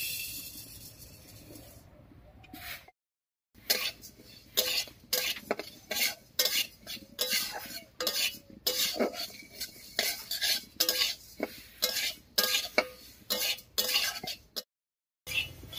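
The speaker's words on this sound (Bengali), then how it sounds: "ডালটা বেশ লাল লাল করে ভেজে নিয়েছি" Lentils fried in a wok (kadai) are stirred with a spatula, producing repeated close scraping strokes in an uneven rhythm, with short gaps of silence between.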